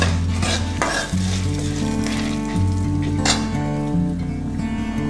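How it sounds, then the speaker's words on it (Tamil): Curry leaves, pepper, cinnamon and chillies dry roasting on a low flame while being stirred, a continuous close crackle and rustle with light metallic scrapes of a spoon against the pan, steady throughout. "லோ ஃப்ளேம்லேயே வச்சு பொறுமையாக நிதானமாக இதை வறுத்து எடுத்துக்கலாம்"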